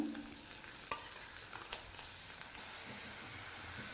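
Anchovies sizzle quietly in hot oil while a utensil stirs and scrapes the pan with light intermittent clicks.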